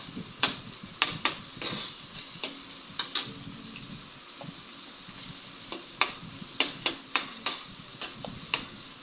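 Pork dinuguan sautéing in a pan sizzles softly and steadily while a utensil scrapes and clicks against the pan in repeated, irregular strokes, close and fairly quiet, with no talking.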